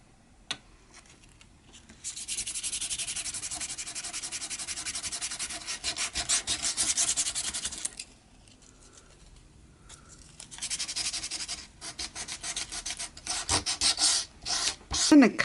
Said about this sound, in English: Sand a few of these and see if that makes a difference.